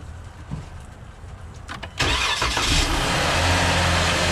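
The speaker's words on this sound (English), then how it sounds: "And then we start the engine to see how that worked out." A 2011-2013 Jeep V6 engine cranks briefly and catches, then settles into a steady, close idle hum that continues to the end.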